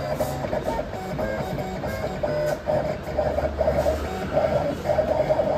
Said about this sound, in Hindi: चैनल नेम प्रिंट हो रहा है और ये भी बाइक पे पेस्ट हो जाएगा.